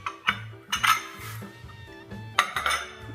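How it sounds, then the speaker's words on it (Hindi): Small glass kitchen bowls clink and knock together as they are handled, giving several sharp, bright chimes in quick clusters, close and fairly clear with no talk. "तो इस तरह का जो छोटा बर्तन है कांच का, एक ये है और एक ये है।"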